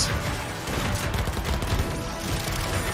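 Dual SMGs in Fortnite firing in loud, dense, continuous automatic bursts that fill the whole stretch with rapid gunfire and booming impacts.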